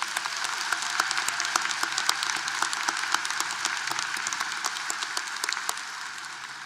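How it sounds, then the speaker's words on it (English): Applause at a UT Martin fall commencement ceremony sounds as sharp, scattered claps in a large hall, moderately distant and steady, tapering slightly at the end. "Let's give them one more big round of applause."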